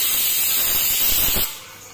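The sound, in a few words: pressure cooker hissing steam while cooking rice and vegetables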